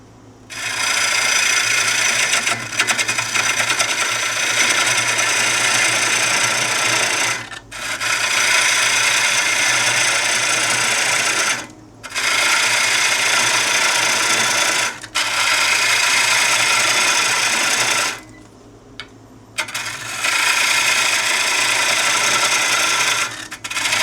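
Wood lathe spinning a Florida live oak bowl blank at about 900 RPM, a steady loud rasping, scraping whir from the cutting tool that runs in long sustained passes broken by several brief pauses.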